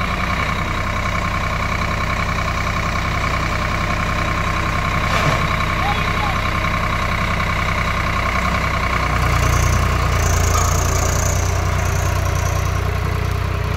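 A Swaraj 855 FE tractor engine drones steadily and loud while pulling a 9-ton spring cultivator through a field, with a deeper rumble swelling near the end.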